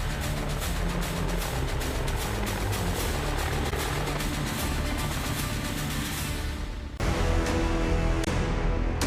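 An LCH military light combat helicopter, developed from the Dhruv, thunders loudly with rapid rotor chop throughout, briefly dipping before surging back.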